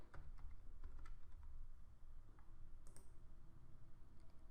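Someone types a password on a computer keyboard, producing a quiet, irregular run of soft key clicks and taps over a faint background hiss, with no talking.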